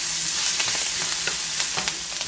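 Diced tofu dropped into a hot pan and stirred, a constant loud sizzle and spatter with scraping stirs repeating through it, close up and with no voices.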